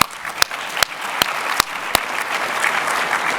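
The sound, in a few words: conference audience round of applause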